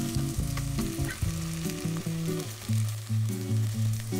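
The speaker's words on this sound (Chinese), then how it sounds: "再翻炒一分钟" Onions and tomato paste are stir-fried in a pot for a beef bourguignon, a close sizzling hiss broken by repeated scraping and stirring strokes, with steady tonal sounds underneath.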